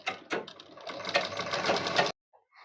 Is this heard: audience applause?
no